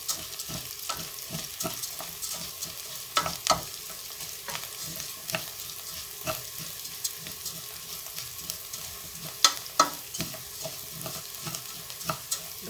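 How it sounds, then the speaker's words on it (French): Rice grains are blanched in a hot pan, hissing in a continuous bright sizzle while a utensil stirs with regular light scraping clicks, close and moderately loud, no voices. "Je fais blanchir mes grains de riz."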